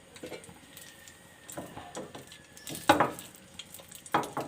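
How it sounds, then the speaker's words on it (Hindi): Green chillies, eight to ten of them, fry in oil and ghee for Hyderabadi hari mirch ka salan, a soft sizzle with scattered stirring clatters and a couple of louder scrapes, no voices. "उसके अंदर मैं ये 8 से 10 हरी मिर्चें ये डालूँगी। इसको हल्का सा हम फ्राई करेंगे।"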